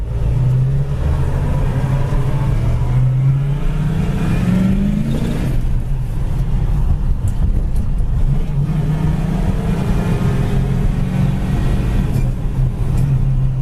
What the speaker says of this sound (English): Shifts really easy going into third, coming right down into fourth.